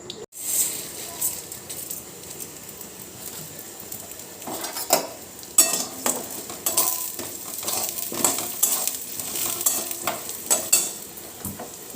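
Chushi pitha sizzle in ghee in a wok, a steady frying hiss broken by repeated clinks and scrapes of a spatula against the pan, moderately close and without talk.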